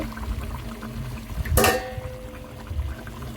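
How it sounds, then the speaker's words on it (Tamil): Coconut milk poured into a simmering South Indian fish curry, a brief splashy pour about midway through, over a steady low bubbling background. "பின்னர் நாங்கள் புளிந்து வைத்த தேங்காய் பாலை அளவாக சேர்த்து கொள்ளுதல்"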